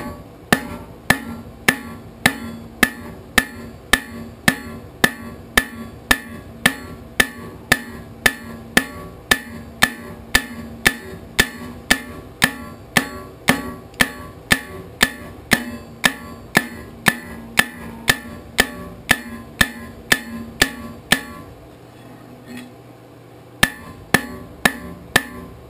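A hammer strikes hot steel on an anvil while forging a leaf-shaped coat hook, giving sharp, regular ringing blows about once a second with a brief pause near the end.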